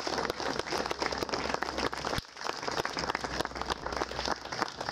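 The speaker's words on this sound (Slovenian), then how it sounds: "Namenimo jim aplavz in jih čestitamo še enkrat" An audience at a Fighters' Day commemoration in Portorož applauds surviving fighters, moderately distant clapping that runs steadily, briefly dips in the middle, then resumes.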